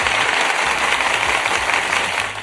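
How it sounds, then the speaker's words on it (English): Loud, continuous clapping fills a short stretch at what seems a Universal's Epic Universe gathering; it sounds more like a crowd applauding than a single pair of hands. "I just want to applaud myself real quick"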